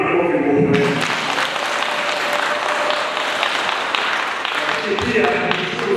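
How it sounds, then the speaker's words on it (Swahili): An outdoor crowd at a political gathering claps for their member of parliament, a dense sustained applause that swells and then holds steady for several seconds, with some voices mixed in near the start and end. "Tupigie makofi mbunge wetu."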